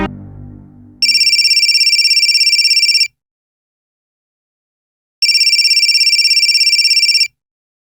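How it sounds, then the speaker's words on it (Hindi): A mobile phone rings with a bright electronic trill in two separate two-second bursts, loud and close, separated by silence, after a brief low murmur at the start. "तुम्हारा फोन बज रहा है।"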